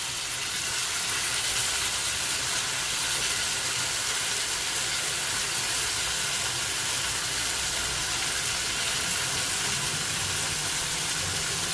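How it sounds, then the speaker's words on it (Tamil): Tomatoes sautéing in a pan for a fenugreek (vendhaya) curry give a steady, even sizzle with a constant hiss that runs unbroken and evenly loud throughout. "கொஞ்சம் நல்லா வதங்கட்டும் தக்காளியும்"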